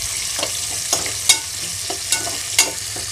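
Sliced onions, green chillies and mint leaves fry in hot oil in a pan, a loud close sizzle with regular scraping stirs and sharp clicks of the spoon against the pan.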